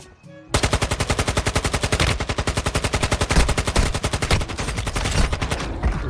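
Rapid automatic gunfire from the mobile shooter game Warzone Mobile, a dense, loud burst of repeated shots that runs almost without a break from the first half-second to the end, with no talking over it.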